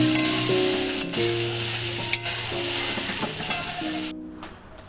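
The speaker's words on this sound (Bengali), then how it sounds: "এইভাবে আমি এই পাস্তাটা চাউমিন স্টাইলে রান্না করছি" Pasta tossed with pasta masala and onions fries chow mein style in a pan, giving a loud, continuous sizzle with a few sharp stirring knocks and a low hum behind it.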